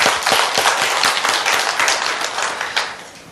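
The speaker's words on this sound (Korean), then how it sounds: "박수로 하나님께 다시 한번 영광을 드립니다" A church congregation claps together during a Christmas Sunday worship service, a dense, steady wash of many hands lasting a few seconds with no voices over it.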